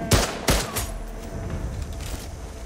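Sniper rifle with heavy recoil firing in a modern shooter video game, two sharp, loud booming shots in quick succession followed by a rumbling echo tail.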